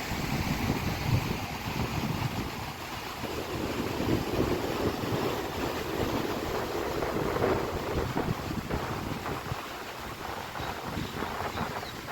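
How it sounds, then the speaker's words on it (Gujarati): Steady, loud wind rushes across the microphone outdoors at Ozat Dam and river, a continuous buffeting roar with no pauses. "પવન એટલો બધો સરસ આવે છે"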